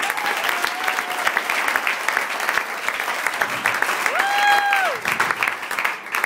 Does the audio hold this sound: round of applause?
yes